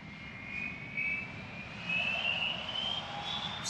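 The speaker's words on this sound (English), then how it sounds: "over at the threshold, the United Dreamliner is lining up. This is going to be a turn and burn" A United Boeing 787 Dreamliner spooling up for takeoff at Amsterdam Schiphol, a steady distant jet engine roar with a rising whine, heard alone without voices.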